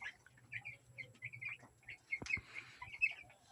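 Young chickens ten days old, crowded in a small pen, peep and chirp in short repeated calls over a low steady hum, with a few closer louder bursts near the end.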